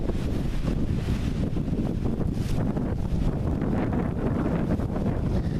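Wind blows outdoors and buffets the microphone, giving a constant low roaring rush with gusty swells and no speech.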